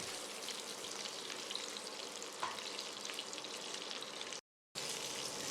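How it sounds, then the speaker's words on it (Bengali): Fish head frying in oil in a pan on low flame, a steady fine crackling sizzle throughout with one brief dropout, no talking. "ভালো করে ভেজে নিচ্ছি মাছের মাথাটা আমি লো ফ্লেমে ভেজে নিচ্ছি"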